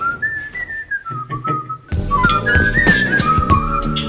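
A person whistles a wavering melody alone, then continues whistling more loudly as a busy background with clattering sounds kicks in.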